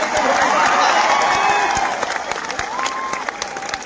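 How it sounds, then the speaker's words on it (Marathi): Loud, dense applause from a crowd at a student rally in Chhatrapati Sambhajinagar held against the government, with clapping and some cheering going on steadily throughout and easing off slightly toward the end. "जोरदार टाळ्या वाजवा"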